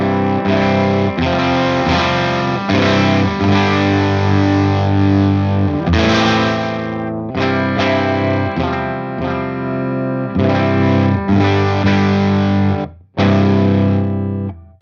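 Electric guitar played through a Universal Audio amp simulator pedal with its instrument input turned up, giving loud, driven, distorted chords and riffs that ring out in bursts with brief pauses between.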